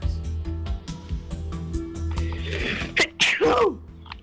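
A single sharp human sneeze bursting out near the end, preceded by a short intake, over a background of rhythmic game music and clicks.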